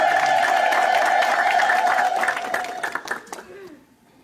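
A church congregation gives loud sustained applause mixed with high, wavering ululation, filling the space before trailing off into scattered claps near the end.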